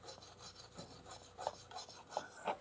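Old silicone is scraped off the engine surface of a Nissan X-Trail QR25 during a head gasket job, heard as quiet, steady rasping strokes with a few sharper scrapes near the end.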